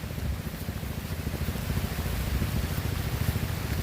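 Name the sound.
heavy rain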